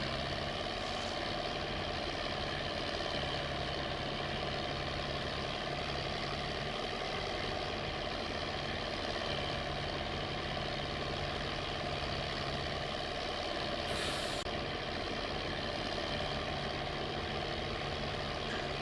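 A tractor driving out to a field in the Farming Simulator 22 video game, with a steady, low, continuous diesel engine hum that holds unchanged throughout, fairly quiet and without voices.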